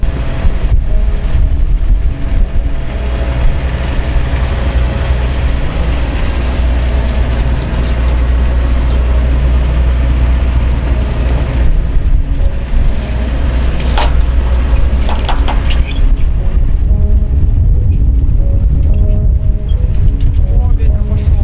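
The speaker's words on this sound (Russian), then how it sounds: "ветер начал завывать в вантах" Strong wind gusts across a yacht at anchor in a cold hailstorm, a continuous loud roar with rising, whistling tones through the rigging, steady throughout with brief gusty swells.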